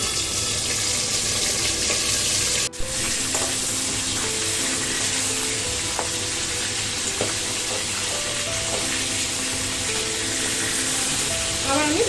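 Boal fish frying in mustard oil in a pan, a steady broadband sizzle throughout, with a brief sharp clatter as the pieces are turned over and a few faint splashy water-like crackles.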